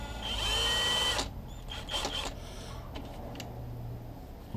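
A Certa power drill with high and low gears and variable speed spins up with a steady whine for about a second, then winds down, leaving light handling clicks over a low hum.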